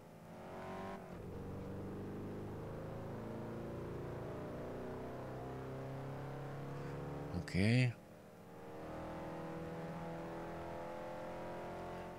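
A car engine drones steadily while driving in Test Drive Unlimited 2, with harmonic engine tones that climb and fall and a brief louder burst near the end. A voice speaks briefly.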